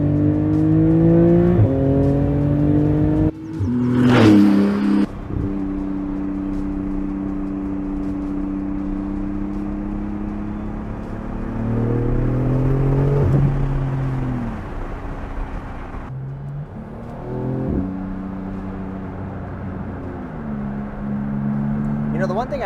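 A Porsche GT2 RS sports car's engine revs in several rising and falling bursts close by, with a steady idle between them, then settles and blips again.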